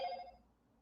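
A phone rings with a single short electronic trill that cuts off quickly and fades into quiet room tone.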